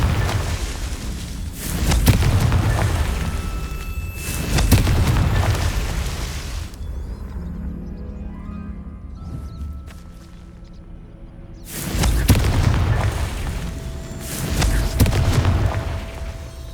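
In Hogwarts Legacy, Confringo blast spells burst into deep booming explosions, two heavy blasts early, a quieter lull, then two more roaring detonations, loud and close with rumbling tails and no speech.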